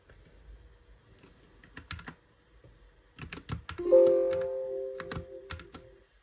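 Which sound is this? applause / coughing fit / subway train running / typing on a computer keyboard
typing on a computer keyboard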